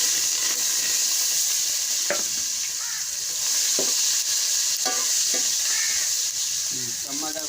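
Masala frying and being stirred in a pan over a village cooking fire, a steady loud sizzle with repeated scraping stirs throughout.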